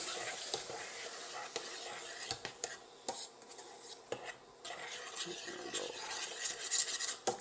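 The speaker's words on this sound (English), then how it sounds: "you want to throw that into the pot and just stir it for a bit" Chopped fresh tomatoes are stirred in a pot, with soft wet scraping and clinks of a utensil against the pot in irregular strokes, fairly quiet, with faint murmured speech.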